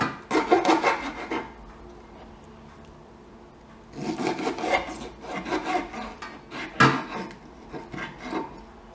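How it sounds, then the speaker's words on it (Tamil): A knife trims the tail and fins off a pomfret fish in two bursts of close, rasping scraping and cutting strokes separated by a quiet pause, with no talking. "வால் கட் பண்ணிடணும்."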